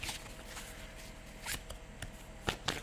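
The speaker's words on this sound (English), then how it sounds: "All right, give me the right shuffle here." Soft, brisk tarot card shuffling close by, a few quick riffling bursts with crisp clicks, no voices.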